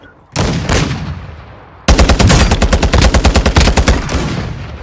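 Rapid automatic gunfire in the video game Call of Duty, a short burst and then a long run of loud, evenly spaced shots close by, with no talk over it.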